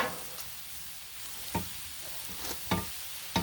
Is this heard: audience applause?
no